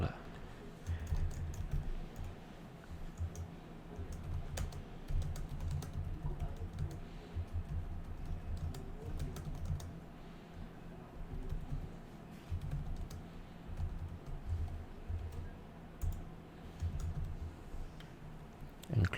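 A message is typed on a computer keyboard, with steady, close key clicks running throughout under occasional speech.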